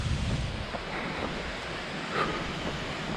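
A waterfall on a mountain trail rushes steadily, a continuous broad roar of falling water close by that stays even throughout, mixed with some wind.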